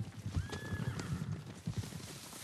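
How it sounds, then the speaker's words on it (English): Horses in Ghost of Tsushima, a near whinny rising over rapid galloping hoofbeats that pound on steadily for a couple of seconds. "Horses, they're coming for us."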